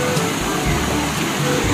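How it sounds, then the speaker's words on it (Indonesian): A fast-flowing river in a Kalimantan forest at night gives a loud, steady broadband rush of water, close by and unbroken. "airnya deras banget guys."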